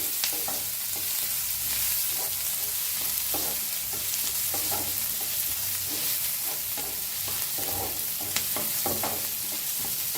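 Onion, garlic and green chillies fry in a pan with a steady crackling sizzle, punctuated by repeated scraping clicks of stirring, close and continuous.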